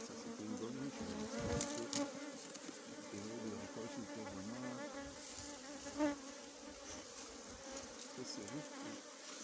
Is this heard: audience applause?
no